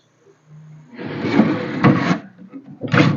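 An old solid teak drawer on a carved furniture piece slides with a loud wooden scraping rub, pauses briefly, then scrapes again, close up with no talking.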